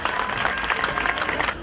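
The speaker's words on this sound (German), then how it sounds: "Applaus bitte einmal, meine Damen und Herren." Audience applause at the opening of the 2013 Wachau folk festival, a dense, steady wash of many hands clapping throughout, fairly loud and close with no speech over it.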